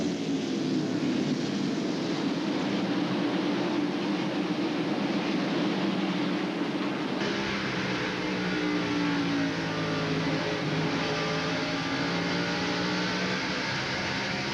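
NASCAR Winston Cup stock cars in the 1998 Food City 500 at Bristol Motor Speedway, engines near 9,000 RPM, roar continuously down the backstretch. The loud, steady drone of several engines overlaps and shifts in pitch as the cars pass.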